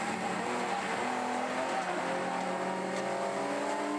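An E34 BMW race car with a 3.5 litre six-cylinder engine runs on the Hampton Downs circuit in an open class BMW race series. Its engine drones steadily and loudly for the whole stretch, with no voices.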